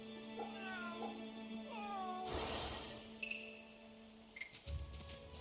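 A cat meows several times in Fate/Samurai Remnant, short rising and falling cries near the start, followed by a louder burst of game noise and clatter.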